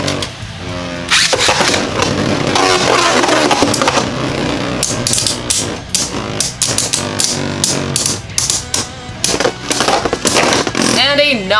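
Beyblade Burst GT tops, Union Achilles in speed and power modes, clash and grind in a plastic stadium, with rapid sharp clicks and scraping impacts that build into a dense clatter, plus a quick burst of hits near the end.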